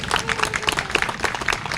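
An audience at the reopening of the renovated Ahmet Ferahlı Park bursts into applause for the park workers, dense, lively clapping close by with crowd murmur mixed in.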